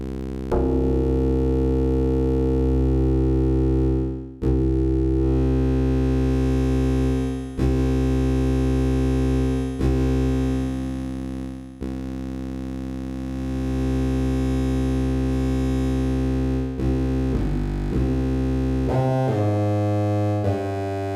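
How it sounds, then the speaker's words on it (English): A sustained synthesizer chord from a Korg NTS-1 with a metallic, splashy spring reverb tail, changing notes every couple of seconds with brief dropouts between them; no voices. "It's a spring reverb, and it does not sound good."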